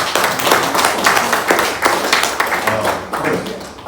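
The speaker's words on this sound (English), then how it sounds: "Give Big Shade another round of applause." Close, lively clapping from the crowd at a community peace gathering, with sharp individual hand claps in a brisk, uneven rhythm that continues throughout.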